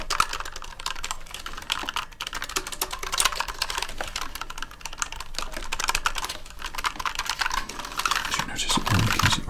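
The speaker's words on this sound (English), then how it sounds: "So let me just type a little bit here for you, so you can hear it" Rapid, continuous clacking of keys on a mechanical RGB keyboard, close and steady with brief pauses, no talking.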